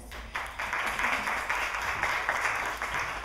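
An audience at a women's business panel bursts into sustained applause, a brief quiet moment giving way to a thick, even wash of clapping that holds steady to the end.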